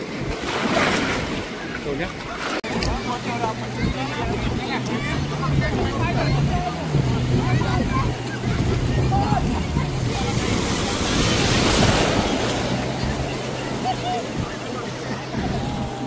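Banana boat ride at Malvan beach, with steady surf and wind noise, a low motorboat engine drone running throughout, and people chatting and calling out over the water.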